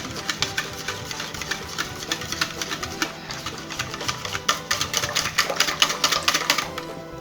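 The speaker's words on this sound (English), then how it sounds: "Using the whisk, we will stir that in." Whisk clattering rapidly against a bowl while mixing a condensed milk custard batter, a steady stream of quick close ticks and taps with no talk.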